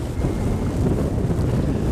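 Wind buffets the microphone outdoors while fishing by a stream, a steady low rumbling roar with no clear gusts and no voices.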